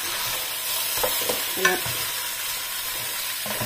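Chicken adobo, seasoned with a little sugar, sizzles steadily in its own rendered fat in a pan, a continuous close hiss with a few faint stirring knocks.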